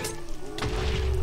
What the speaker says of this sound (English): something just exploded behind me